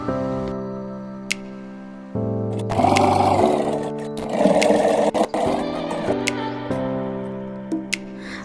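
Sewing machine stitching a folded neck strip on a child's suit, running in several bursts with short pauses and small clicks between, close and steady.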